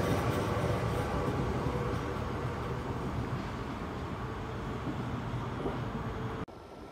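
A train departs from Den Haag Centraal station, a steady low rumble of rolling wagons at close range that holds for several seconds before cutting off abruptly near the end.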